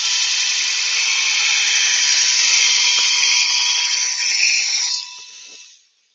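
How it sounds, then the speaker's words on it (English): An electric chainsaw sharpener bought from Lidl runs with a loud, steady high-pitched grinding whine for about five seconds, then winds down and fades out. "chainsaw sharpener, which I bought from Lidl."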